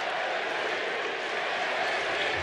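A baseball stadium crowd at an Angels versus A's MLB game rises into a broad, steady roar of cheering and applause, dense and sustained, with no single voice standing out.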